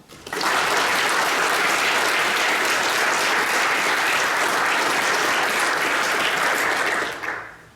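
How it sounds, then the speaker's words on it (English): Sustained, dense applause from an audience at a military change of command ceremony, honoring service members' spouses; loud and steady for about seven seconds before trailing off at the end. "Please help join me in a second round of applause for our spouses."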